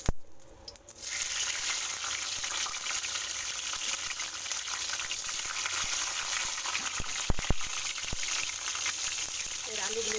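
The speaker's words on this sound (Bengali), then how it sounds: "সবজিগুলো প্রথমে একটু ভেজে নেব, তার জন্য কিছুটা সরষের তেল" Vegetables and green chillies sizzling in hot mustard oil, a steady close frying hiss that lasts throughout with a few sharp clicks and pops.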